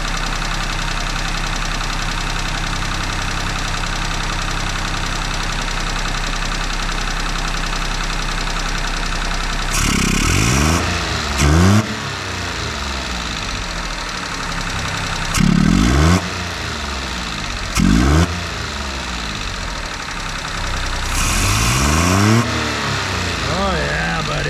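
A Japanese Hijet mini truck with a new carburetor and distributor trouble idles with a low steady hum, then revs up in several short bursts, settling back between each rise as its idle air is tweaked.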